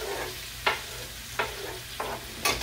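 Onion and red pepper fry in a pan while being stirred, a steady sizzle broken by four sharp scraping strokes of the utensil, close and without talking.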